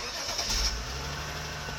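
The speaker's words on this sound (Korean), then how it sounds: "실키식스 엔진이 탑재가 되어 있다 보니까 엔진 사운드가 너무 좋습니다" A push-button start brings a straight-six car engine to life, with a short cranking catch that settles into a smooth, quiet idle, heard alone.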